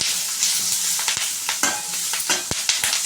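Curry leaves and turmeric fry in a pan while being stirred, making a close steady sizzle broken by occasional scraping taps of the spoon. No voices are heard.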